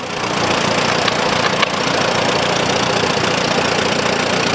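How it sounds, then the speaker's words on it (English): An Allis-Chalmers Model B tractor runs in a fair parade with a loud, steady, close engine drone and a continuous rough, thrumming texture. "Model B Alice Chalmers, owned and driven by Vonda Shank of Cleta, Illinois."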